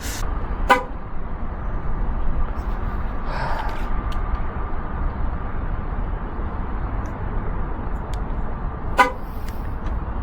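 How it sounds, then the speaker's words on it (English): Two short horn honks from a Mercedes electric car, one near the start and one near the end, over a steady low background hum. "And it honks again."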